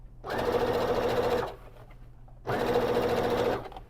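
A sewing machine top stitches a small fabric pouch in two bursts of quick, even needle chatter, each lasting about a second, with a short quiet pause between them. The stitching is close and clear.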